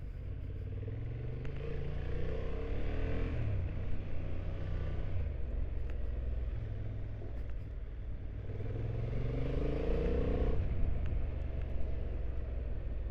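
A 2025 Honda Hornet 750 motorcycle being ridden, its engine note droning steadily with repeated rising pitch sweeps as it pulls through the gears, loud and continuous with wind and road noise around it.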